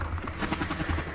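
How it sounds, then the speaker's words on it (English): A helicopter in the Roblox game Plane Crazy whirs with a steady, faint, muffled rotor chop for about a second, heard alone. "Helicopter, go away."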